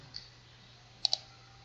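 Two quick computer mouse clicks close together, sharp and close, with one fainter click earlier, over quiet room hum while navigating accounting software.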